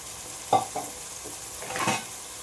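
A raw paste of onion, tomato and two green chillies cooks in a pan with a soft continuous sizzle and a few quiet spoon scrapes, close and without voices.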